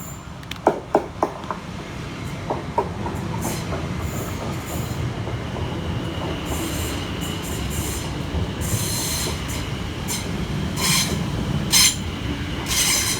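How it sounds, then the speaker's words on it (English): A Greater Anglia Class 720 electric train runs through a London station on a diverted service, a steady loud roll of wheels with clicks and high squeals from the rails along its length. "Next to pass through the station for Greater Anglia is 720-552, working 2H27 from Cambridge North through to London Liverpool Street."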